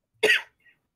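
One short, sharp cough rings out close up, followed by a faint little sound and then silence.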